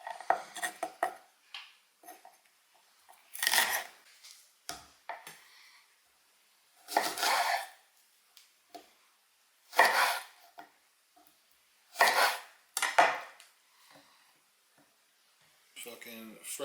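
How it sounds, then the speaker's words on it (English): Green beans being cleaned and cut up on a board, heard as several separate bursts of knife chopping and handling noise with quiet gaps between them, close by and fairly loud. "Let's get them cut up"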